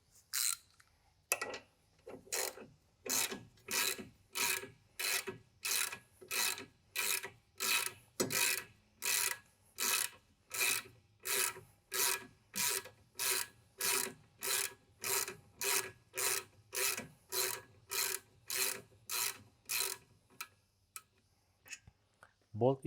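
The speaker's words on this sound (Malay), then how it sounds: "Gunakan ratchet untuk mengeluarkan bolt." A ratchet wrench works a brake caliper bolt loose on a Proton Saga, a long run of about thirty steady, evenly spaced rasping clicks, close and fairly loud, that slows and stops near the end.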